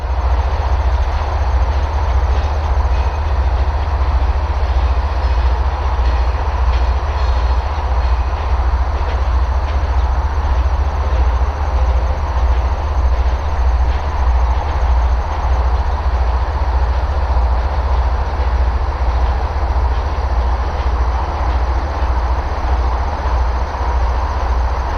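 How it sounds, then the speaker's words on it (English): An empty CN coke train of freight cars rolls steadily through a rail junction, a loud, continuous rumble and rattle of wheels up close that stays unbroken throughout. "CN L575 was going south with an empty coke train"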